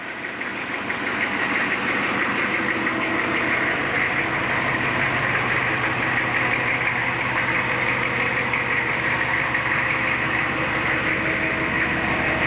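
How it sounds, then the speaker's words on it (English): A 1994 Chevrolet 3500 turbo diesel truck engine idles with a steady low rumble and rhythmic knocking, continuous throughout with no talking. "Can you hear the diesel engine?"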